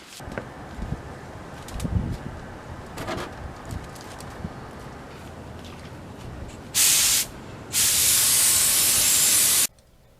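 Outdoor ambience with faint bird calls, then a short hiss of a cheap spray gun spraying clear coat on custom motorcycle wheels, followed by a longer, steady spraying burst.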